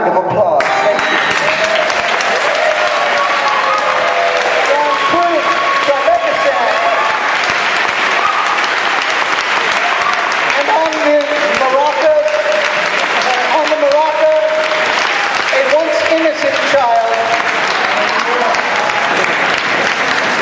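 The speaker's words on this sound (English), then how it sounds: "I'd like to ask you all to join me in giving them, as a show of our collective appreciation, a hearty round of applause" Audience applause at a poetry reading marathon, loud and sustained, with a person talking over it at times.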